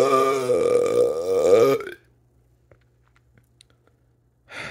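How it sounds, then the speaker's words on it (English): A long, loud, drawn-out burp with rumbling pitch, followed by near silence with a few faint clicks and a brief noise at the end. "sorry about the burping"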